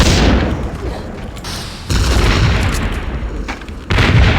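Heavy weapon fire and explosions blast through a BloodRayne game level: loud booming bursts in three surges, each opening with a sharp hit and rolling into dense, sustained roar.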